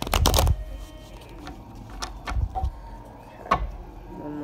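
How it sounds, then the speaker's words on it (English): A deck of tarot cards is shuffled in a few quick riffling bursts, near and soft, with short gaps and small handling taps between them. "Okay, one more shuffle and then."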